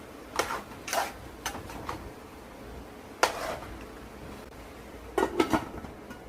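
Spaghetti sauce stirred in a cooking pot, with a spoon knocking and scraping against the pot in scattered clusters of clinks separated by quiet pauses, close by and without talk.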